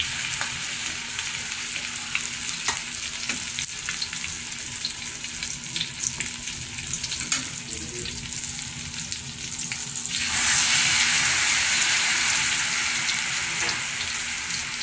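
Tortang talong, an eggplant omelette, frying in a pan: a steady close sizzle and crackle of hot oil runs throughout and swells noticeably louder partway through, with no talking.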